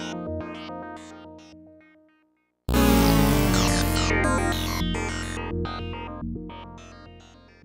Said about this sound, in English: This preset also uses the sample and hold feature of the LFO to modulate the filter in a random stepped sequence